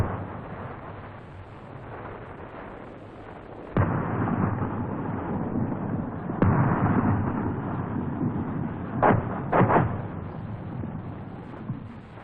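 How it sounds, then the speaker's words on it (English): A HESH tank round strikes armor equivalent to a Soviet BMP, with loud booming blasts and bursts over a rumbling background, several sharp impacts standing out, heard without talk. "This sequence shows the damage caused by a Hesh round to armor equivalent to the Soviet BMP."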